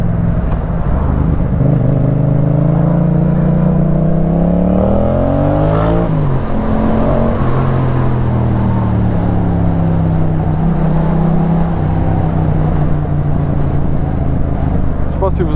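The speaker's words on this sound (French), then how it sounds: "si vous entendez le pot, comment il pète" A 2019 Yamaha MT-07 motorcycle revs and accelerates with a loud, steady engine drone, its pitch sweeping up and dropping near the middle, crackling from the exhaust mixed in, heard close and continuous throughout.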